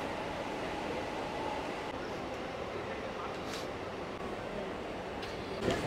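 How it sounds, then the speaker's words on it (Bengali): Train rumbling across a bridge on a rainy journey of the Kanchenjunga Express from Sealdah to Agartala, a steady, fairly faint rolling drone with brief clatters. "ব্রিজের উপর দিয়ে তো ট্রেনটা যাচ্ছিল"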